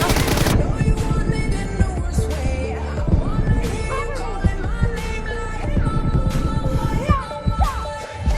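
Rapid gunfire from an online shooter game's team deathmatch is buried in a dense, loud mix of game music and effects, sounding as a steady stream of crackling shots throughout.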